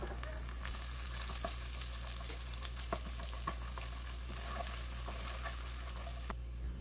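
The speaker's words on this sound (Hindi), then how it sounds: "इसमें वन टेबल स्पून ज़ीरा ऐड किया है और फिर इसमें मैं ginger and garlic paste add कर दूंगी और फिर इन सारी चीज़ों को वन मिनट तक फ्राई करेंगे" Cumin seeds and ginger garlic paste frying together in a pan, a steady close sizzle under a constant low hum, with scattered crackles and pops spread across the whole stretch.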